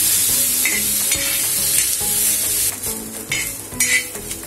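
Chopped onion fries in a pan for Maharashtrian shev bhaji, a loud, close, constant sizzle with clattering spatula stirs and pan scrapes, no voices.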